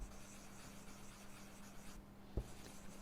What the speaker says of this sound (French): on peut colorier sans problème avec n'importe quel crayon couleur dessus